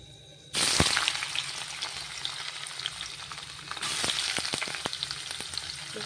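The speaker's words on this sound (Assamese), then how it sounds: "প্ৰথমে মই পনীৰখিনি ভাজি ল'ম" Paneer pieces drop into hot oil and start frying, a sudden loud hiss that settles into continuous crackling sizzle with scattered pops, intensifying again near the end; no talking.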